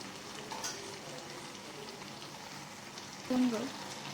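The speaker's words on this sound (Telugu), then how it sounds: "ఇప్పుడు ఇలా క్యారెట్లో వేసిన పాలన్నీ ఇంకిపోయేంత వరకు బాగా క్యారెట్ని ఉడకనివ్వాలి." Grated carrots cook down in milk in a pan for carrot halwa, with a low bubbling sizzle and occasional stirring scrapes, and a brief voice near the end.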